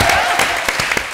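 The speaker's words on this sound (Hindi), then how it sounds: "जोरदार तालियां बच्ची के लिए." Audience applause at a comedy stage show, loud and steady with dense clapping throughout the short burst.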